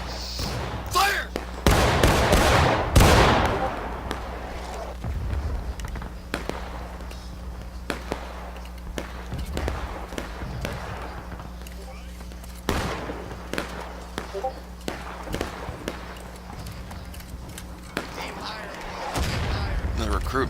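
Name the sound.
musket volley fired by the 17th Michigan line, from the video game War of Rights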